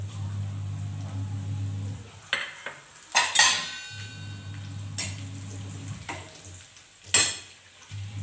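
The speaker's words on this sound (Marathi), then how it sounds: "त्याच्यानंतर मी आता त्याच्यामध्ये ही लाल मिरची टाकणार" Red chillies hit hot oil with browned garlic, giving a low steady sizzle broken by sharp clinks of a utensil against the pan and brief stirring scrapes.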